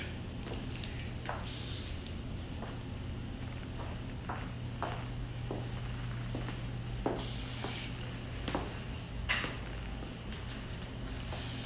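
Short hissing bursts of hair spray, several quick sprays spaced irregularly over a steady low background hum.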